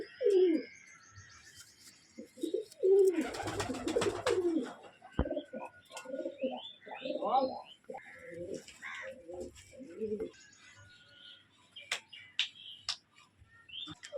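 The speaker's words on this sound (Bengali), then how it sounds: "কালাঙ্কা বিডের পায়রা এটা" Kalanka beader pigeons coo close by, a string of soft, repeated throaty calls and murmurs, with a sharp rustle or flap partway through.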